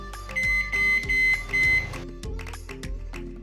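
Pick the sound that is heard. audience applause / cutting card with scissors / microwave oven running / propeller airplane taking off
microwave oven running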